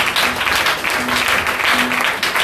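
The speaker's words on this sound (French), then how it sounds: "Acclamons Jésus." A church congregation claps together in a dense, steady burst of applause that fills the room, loud and sustained throughout.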